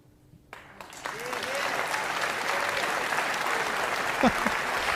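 Audience applause breaks out at a political event on energy and nuclear policy, rising quickly from near silence into sustained, dense clapping from a large crowd that continues steadily throughout.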